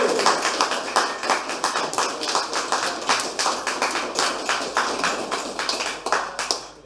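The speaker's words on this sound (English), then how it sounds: "a big round of applause for very hard-working, dedicated nationalist Lawrence Rustem" An audience at a British Democrats annual general meeting in 2023 claps for a speaker, producing close, steady applause with a loose pulsing rhythm that tails off at the end.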